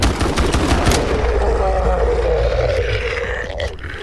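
Gunfire in the shooter game STALKER 2, with rapid shots blending into a loud, continuous rumble of weapon noise and game ambience, close and heavy throughout.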